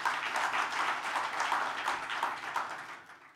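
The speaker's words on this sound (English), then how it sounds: "Can we clap for them?" Audience clapping for small and medium business grant recipients at a corporate report event, a dense, steady patter of many hands fading slightly toward the end.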